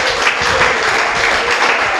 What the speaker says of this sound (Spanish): Aplaudan a Dios.